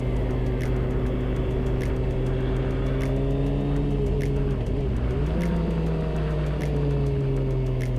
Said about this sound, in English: Looks like we got a couple Harley's pulling up.